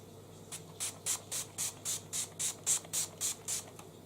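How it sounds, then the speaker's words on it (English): Makeup setting spray misted onto a face in a quick series of about a dozen short, evenly spaced hissing pumps, close and clear in a quiet room. "So this is the point that I use my first lot of setting spray."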